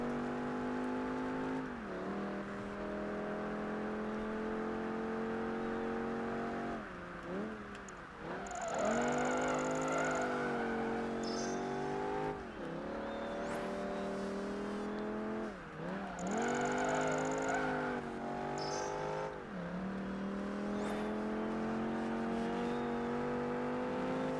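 A racing car engine in Project Gotham Racing 3 during a World Endurance Eliminator event, running near 150 mph in a six-gear car: a loud, sustained high rev rising through gears with repeated shift dips and brief tire squeals.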